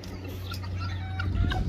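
Chickens cluck softly over a brief stretch, with faint scattered calls and a low steady background hum.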